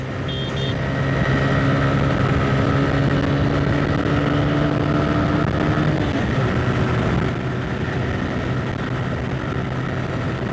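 Two motorcycles, a TVS Raider 125 cc and a Yamaha Fazer 150 cc, race along a road, their engines droning loud and steady with a shifting whine that changes pitch midway.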